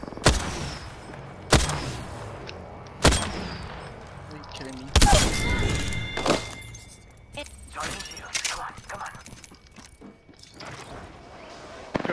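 A frag grenade thrown and exploding in a video game, with several sharp, loud bangs spaced a second or two apart, then scattered crackling debris, with people talking throughout.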